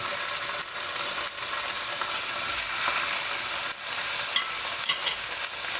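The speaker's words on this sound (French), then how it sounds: "Quand elle est bien chaude, je vais poser mes steaks de thon dans mon huile." Tuna steaks fry in hot oil with a loud, continuous, close sizzle and faint crackling throughout, with no talking.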